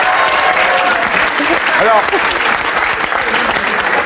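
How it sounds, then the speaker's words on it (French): A television talk-show studio audience applauds loudly in a thick, continuous burst of clapping, with a brief spoken word over it. "on l'applaudit"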